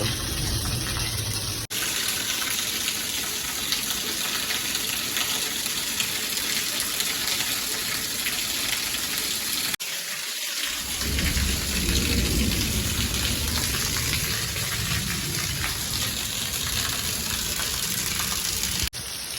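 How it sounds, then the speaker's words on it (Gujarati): Rain and floodwater in the streets of Junagadh during heavy flooding make a loud, continuous gushing, splashing hiss close to the microphone. A brief near-silent gap interrupts it midway. "ફરિયામાં આખામાં પાણી ભરાઈ ગયું છે"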